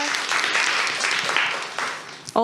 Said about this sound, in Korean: 다들 박수 부탁드립니다